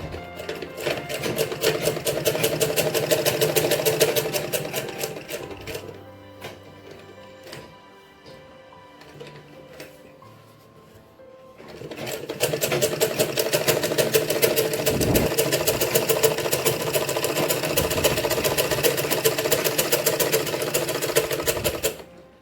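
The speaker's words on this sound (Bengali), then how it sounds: "পুরো লাইনটা সেলাই করে নিলাম" Sewing machine stitching a salwar seam in two long running bursts separated by a quieter pause with faint handling, the motor's rapid chatter loud and steady throughout.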